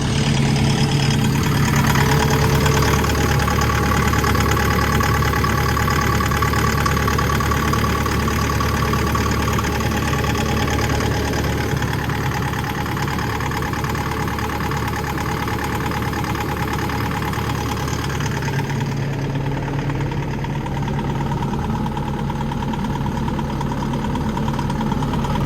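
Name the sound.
Takeuchi excavator engine idling after repair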